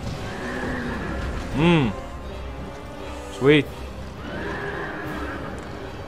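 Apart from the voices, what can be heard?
horses neighing in video game Dark Souls 2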